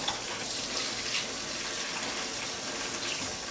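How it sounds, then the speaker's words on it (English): Steady rushing of water pouring into a pot of chili with whole dried chiles and hand-cut beef, continuous and fairly loud with no talking. "now then, let's put some water in this"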